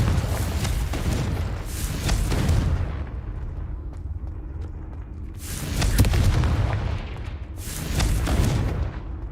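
Confringo explosive spell blasts in the video game Hogwarts Legacy, heard as three heavy booming bursts with rumbling tails, loud and close, spaced a few seconds apart.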